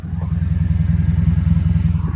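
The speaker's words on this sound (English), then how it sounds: "I actually really like the tone of this exhaust" A Hyundai Veloster with its muffler removed idles with a deep, loud, throbbing exhaust burble, steady and close, with a fast, even pulse and nobody talking.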